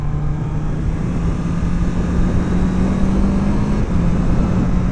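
A 2024 Honda CB650R with E-clutch runs under way, its engine a loud, steady drone with a sustained low hum throughout, with no voices.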